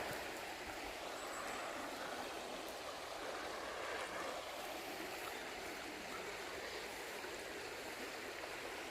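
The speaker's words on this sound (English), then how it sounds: "Nice wee river." Steady rushing of a small river flowing through a pine forest, a constant broadband wash of water with no pauses, close and fairly full throughout.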